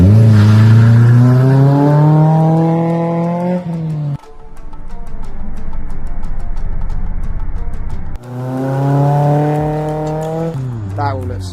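A Toyota Celica with an aftermarket exhaust revs loudly and close by, two long rising and falling engine blips separated by a rougher idle stretch, the tone climbing sharply on each rev.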